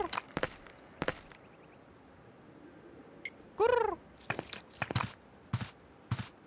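A cat lets out a single short rising-and-falling meow midway. Scattered soft clicks and taps come before and after it in an otherwise quiet room, with no talking.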